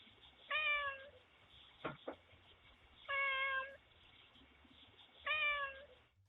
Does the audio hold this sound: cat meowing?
yes